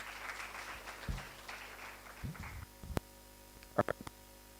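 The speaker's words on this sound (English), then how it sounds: "Can we get an applause for the OLETs?" Faint applause from an audience welcoming new undergraduate students at a faculty orientation opening ceremony; soft, steady clapping fades after a couple of seconds, leaving a quiet room with a few scattered bumps and knocks.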